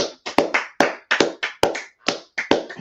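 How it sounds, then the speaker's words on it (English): A class claps together in bursts of sharp, fairly loud hand claps in an uneven, lively rhythm, several quick groups of strikes with short gaps between them, and no voices. "Let's clap it up for class, man."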